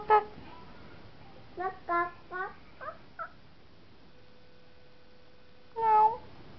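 A voice imitates a cat's meow, giving about six short, rising mews in quick succession, then a pause and one louder, longer meow at the end.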